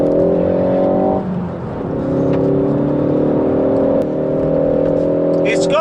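A 2019 Ford Focus ST hot hatch driven on the road in race mode, its engine droning at a steady pitch inside the cabin, dipping briefly around a gear change before pulling on again.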